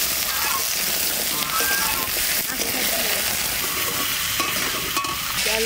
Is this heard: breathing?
no